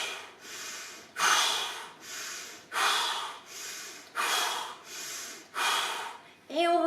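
Six forceful, evenly spaced breaths, each a sharp, loud rush of air that fades, run through an Iceman-style breathing exercise in a vinyasa yoga flow, close and alone.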